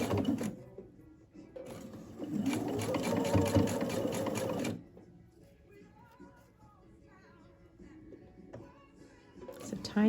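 Sewing machine stitching along the edge of a bra for the underwire channeling, a close, steady whirring run of about three seconds, followed by quieter handling sounds and a brief restart at the end.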